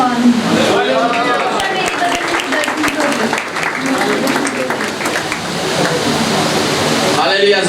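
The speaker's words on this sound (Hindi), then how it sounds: "हालेलुया, जोरदार तालियां बजाएं।" A church congregation at an Easter service applauds loudly with dense, steady clapping that fills the whole stretch, and a voice can be heard over it.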